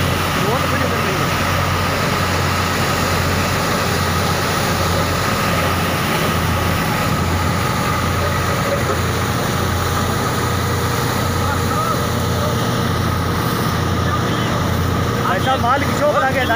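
A tractor-driven farm machine drones steadily at a low, constant pitch, running without pause for the whole stretch, close and fairly loud.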